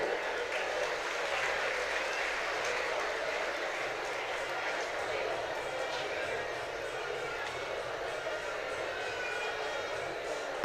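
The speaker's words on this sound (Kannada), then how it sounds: "ಚಪ್ಪಾಳೆ ಮುಖಾಂತರ ಅವರಿಗೆ ಹುರಿದುಂಬಿಸಬೇಕು" An audience at a college felicitation ceremony for NEET and JEE toppers claps in steady, dense applause that fills the hall continuously, moderately loud and slightly distant.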